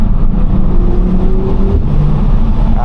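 A 2014 Audi RSQ3's turbocharged five-cylinder engine, 310 hp, revs loudly and close, a dense steady growl with rising and falling tones and no voices.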